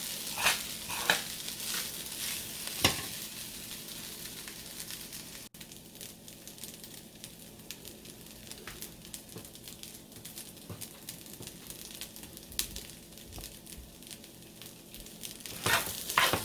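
Vegan fried rice stir-fried in a hot pan, a steady close sizzle with repeated scraping and tossing strokes of a utensil against the pan, no voices.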